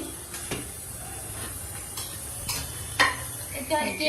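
Red spinach curry being stirred in a clay pot over a stove, village style: a few scraping stirs over a steady low sizzle, close by, with occasional clinks.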